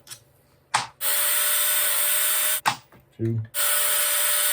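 A power drill whirs in two long, loud bursts, backing screws out of an ARRMA Outcast 8S EXB RC car, with brief pauses and a short low stutter between runs; a voice speaks briefly in between.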